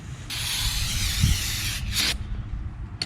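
A steady hiss of cleaner sprayed onto a rusty car rear axle, close and continuous, followed by a shorter second burst.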